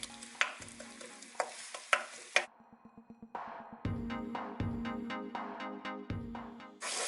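Onion and garlic frying in a pan for a Thai-style nasi goreng, with soft sizzling under repeated clinks and scrapes of a spoon stirring against the pan, close and fairly quiet.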